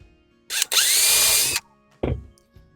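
A power drill drives screws to fasten a wooden stringer in a boat hull: a loud, sustained whirring run of about a second, then a second short burst.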